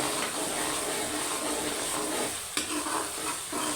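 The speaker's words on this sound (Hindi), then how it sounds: "इसे अच्छे से मिक्स कर लेंगे और इसे अच्छे से पकाएंगे।" White lobia curry is stirred and cooked in a pot, a busy bubbling sizzle under scraping strokes of a spoon, with a sharper knock near the end; no one speaks.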